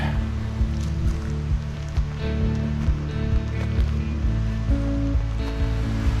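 Steady rushing water flows nearby, a continuous broadband wash of a creek running over rocks beside a backcountry campsite near Iva Bell Hot Springs, with no talking.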